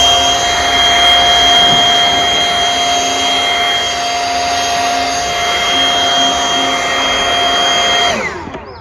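A leaf blower rigged as a sprayer for applying sealer runs at a loud, constant whine with a steady tonal hum, close by, before cutting off abruptly at the end.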